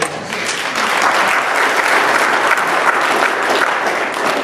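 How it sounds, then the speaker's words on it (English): A crowd claps steadily throughout, a dense, sustained burst of applause at even loudness. "Big hand of applause for Dustin."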